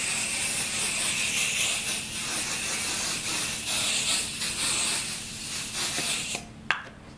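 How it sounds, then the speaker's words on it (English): A long, steady hiss of a basting spray can spraying onto a quilt, continuous for several seconds, then stopping with a faint click and handling noise. "if you want to use basting spray, now is when I would use it"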